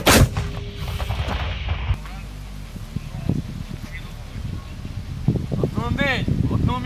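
HIMARS rocket artillery fires with a sharp, loud blast at the start, followed by rumbling and wind noise while people shout commands in the background.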